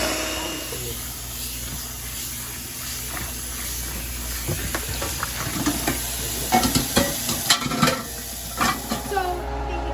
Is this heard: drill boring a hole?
no